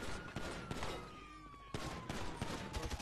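Gunfire in the video game GTA V during a gold robbery mission, a rapid series of sharp shots in bursts, fairly quiet against game sound with a faint tone running beneath.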